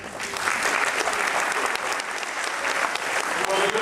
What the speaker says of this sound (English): a round of applause if you had not read the book